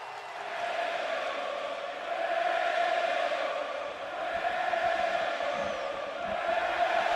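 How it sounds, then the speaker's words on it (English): A standing-room-only stadium crowd at a Cleveland Indians baseball game keeps up a steady, wide roar that swells and eases over several seconds. "this standing room only crowd trying to get under Johnny Cueto's skin"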